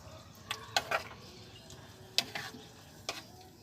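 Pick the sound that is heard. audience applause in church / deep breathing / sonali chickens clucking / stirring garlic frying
stirring garlic frying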